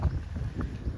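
Wind gusts through a village street in rainy-season weather, making a steady, close, rumbling roar that buffets the microphone for the whole moment.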